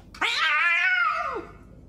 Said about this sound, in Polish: jeszcze ten kot.